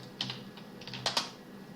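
Keystrokes on a computer keyboard entering a username and password at a login prompt, a few soft scattered taps followed by two sharper presses, close and quiet with nobody speaking.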